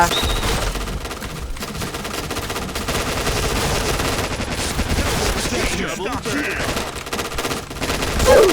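Continuous, loud rapid gunfire in the shooter game Point Blank, with shots layered densely throughout and a voice talking over the battle.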